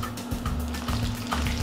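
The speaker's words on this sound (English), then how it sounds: "Fry the green beans until the skin blisters." Green beans frying in hot, bubbling oil in a pan, a steady close sizzle with a low continuous hum underneath and no talking.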